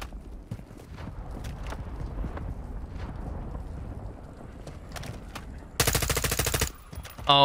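Automatic M4 rifle fire in the Warzone battle royale game, a loud rapid burst of about a second near the end, after quieter footsteps and shuffling, with another sharp shot at the very close.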